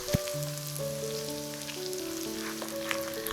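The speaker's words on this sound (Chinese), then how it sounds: "等油温降到大概190度左右的时候，把一半的油浇到辣椒粉上面" Hot oil poured over chili powder for chili oil, a steady close sizzle and crackle under sustained musical tones, with no talk.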